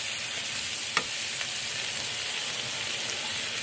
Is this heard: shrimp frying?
yes